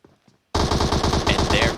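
Dense, loud automatic gunfire from a battle royale video game pro scrim, rapid continuous shots starting abruptly after a brief quiet moment and running to the end.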